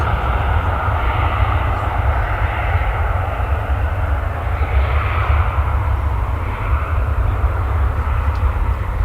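A passenger airliner at DFW Airport sends a continuous, loud jet engine roar with deep rumble, sustained and steady across the whole span with no talk.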